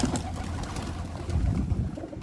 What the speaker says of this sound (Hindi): परवाज़ी कबूतर है शायद,